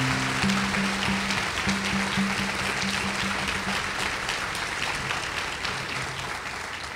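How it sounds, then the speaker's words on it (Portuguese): A church congregation applauds steadily, the clapping dense and even and tapering slightly toward the end. "salva de palmas a eles"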